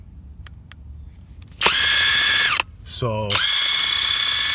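A replica Makita DTW285Z 18-volt brushless cordless impact wrench whirs up with a loud, high, steady motor whine. It cuts off, gives a short stuttering burst, then runs steadily again, up close. A voice briefly speaks beforehand.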